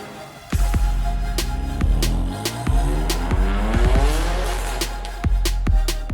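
A BMW F80 M3's turbocharged engine revs hard nearby with a rising turbo whine, gears changing through the run and sharp pops and clicks scattered throughout.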